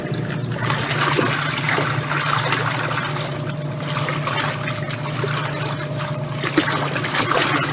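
A washing machine churning soapy water with school uniforms inside, a steady watery sloshing and trickling that runs continuously at close range with no talk.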